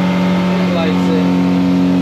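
A 2008 Hewescraft 220 Ocean Pro runs on its Suzuki 150 outboard motor at about 5,600 RPM, a loud steady engine drone with wind rush. Someone talks over it.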